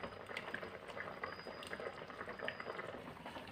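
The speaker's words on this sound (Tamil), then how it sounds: "பாருங்கள், 1 கொதி வந்துருச்சு." Mutton curry with coconut milk bubbling on a stove, a steady soft boil with dense small pops and burbles, quiet and continuous with no one speaking.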